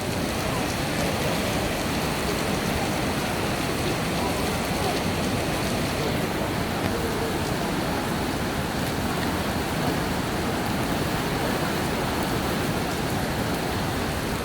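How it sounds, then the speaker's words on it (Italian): Heavy rain pours down steadily during a storm, a dense, continuous hiss that stays loud and unbroken throughout with no voices. "Sta piovendo a dirotto."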